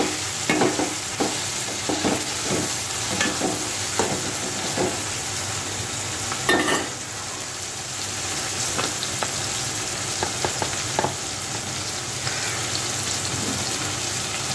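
Tomatoes fry in a pan with a steady, loud sizzle and hiss throughout, broken by occasional scraping stir sounds, and no voices.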